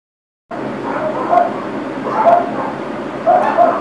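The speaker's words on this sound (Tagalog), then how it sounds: "Hintayin natin yung mga aso na hindi tumangkol." Dogs bark at a distance in about three short bursts spread over a steady background hum, with no talking.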